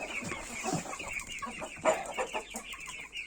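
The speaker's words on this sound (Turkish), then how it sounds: "bir horoz bir tavuk bunlar" A rooster and a hen on a farm cluck repeatedly in short, irregular bursts, fairly close and clear, with no voices.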